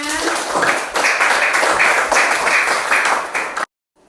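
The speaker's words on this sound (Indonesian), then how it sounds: "Tepuk tangan buat kita semuanya." A school class applauding, a dense burst of hand clapping from many children lasting a few seconds before cutting off abruptly.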